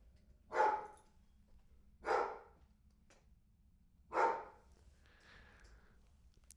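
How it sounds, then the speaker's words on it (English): A single dog gives three separate barks, evenly spaced about one and a half seconds apart, moderately loud against a quiet background hum, then falls silent. "this is a time for the dogs really to show their holiday spirit by barking at mail carriers"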